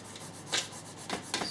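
A hand rubs and smooths a stencil down onto a surface for airbrushing bullet-hole effects, three short close scuffing strokes in quick succession.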